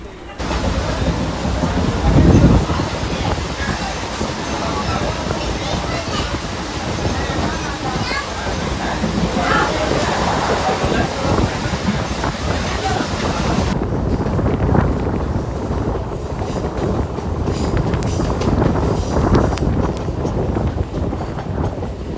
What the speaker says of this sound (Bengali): দেখো মানে বিশাল বৃষ্টি হচ্ছে